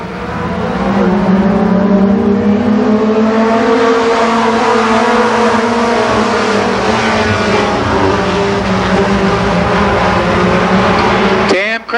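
Pro 4 race cars lap a speedway oval in a 1990 heat race, a loud sustained engine roar with shifting pitch as cars pass, under steady announcer commentary.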